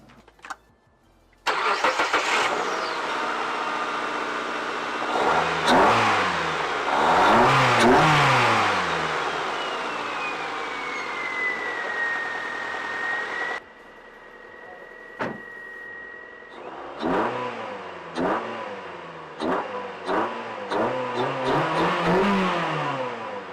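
Car engine with an aftermarket air intake on a cheap modified car, hood open, starting and then revving hard several times in a row, loud and close with rising and falling roars, a steady whine in the middle, and no talking.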